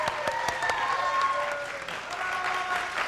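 An audience claps steadily for a few seconds, a lively burst of applause that thins slightly toward the end.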